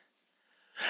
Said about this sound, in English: so it got me sneezing